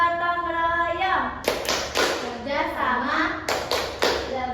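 Children chant in unison and clap together in a classroom, sharp group claps landing in short rhythmic bursts between the sung syllables, close and lively.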